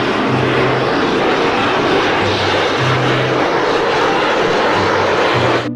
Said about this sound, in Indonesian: di sini ada pesawat tempur